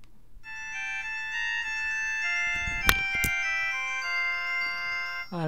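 Smartwatch with phone features alerting to an incoming SMS, a bright chiming electronic ringtone with harmonic tones lasting several seconds, a couple of short taps partway through, fairly close and without speech.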